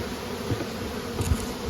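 Dense buzzing from a swarm of honey bees fills the air, a constant close drone with faint thumps of hive frames underneath.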